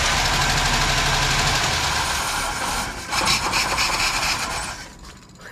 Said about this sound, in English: It was like a chugga chugga chugga chugga. It was dieseling.